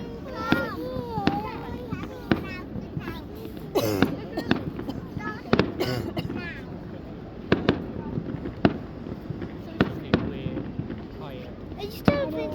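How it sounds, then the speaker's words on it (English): Fireworks crack and pop repeatedly at a Porthcawl bonfire night display, sharp bursts scattered at irregular intervals over a steady crowd murmur, with children and adults talking nearby throughout. "It's just I can hear the fireworks."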